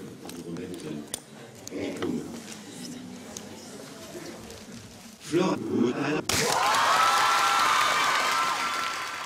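Applause in a lecture hall at a midwifery graduation swells abruptly into a loud, sustained roar of clapping after a quieter stretch of voices, footsteps and knocks.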